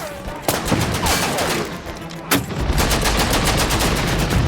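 Rapid bursts of gunfire crack and clatter close by, with sharp impacts and bangs striking an armored wheelhouse, over a noisy, rumbling background.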